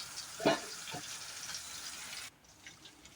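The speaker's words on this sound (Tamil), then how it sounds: "மூடி போட்டு 2 நிமிஷம் கொதிக்கட்டும்." Steady bubbling hiss from sardine fish curry boiling in a pan on the stove, with a brief clink early on; the noise drops sharply to a quieter simmer partway through as a lid goes on.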